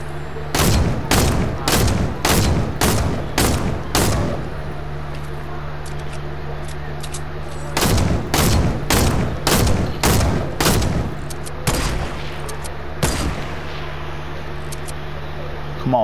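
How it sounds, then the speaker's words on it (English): Bursts of gunfire from another player in the video game Fortnite, loud sharp shots in rapid rhythmic volleys, two long strings separated by a pause, then a few scattered shots, over a steady low hum. "That's Angel shooting at you."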